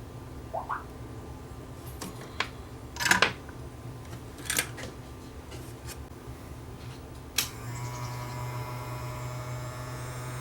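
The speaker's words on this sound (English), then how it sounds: "If I connect these two here, for my positive and negative, the motor should run" A Pioneer CT43 cassette deck motor is wired to 12 volts: a few faint clicks and handling noises come first, then a sharp click as the motor starts a steady, close hum for the last few seconds.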